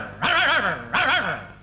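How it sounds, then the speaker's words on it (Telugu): A dog gives two loud, close whimpering yelps that rise and fall, each about half a second long and separated by a brief pause, in a Telugu film scene, with no talking. "ఏంటే కుక్క అట్టా సొస్తున్నావు?"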